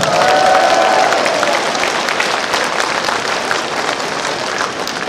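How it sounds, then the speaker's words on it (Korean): An audience at a political rally in Gwangju breaks into applause, a dense, loud wash of many hands clapping that fades gradually over a few seconds. "이럴 때는 박수를 쳐야 됩니다"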